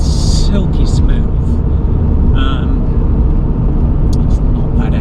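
A BMW M Coupe's S52 straight-six runs at a steady, smooth idle, a loud, continuous low rumble with someone talking over it.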